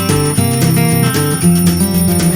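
An alarm clock rings with a loud, repeating electronic melody of bright tones that fills the room steadily without pause.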